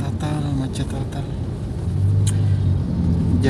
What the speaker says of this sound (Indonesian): Macet total.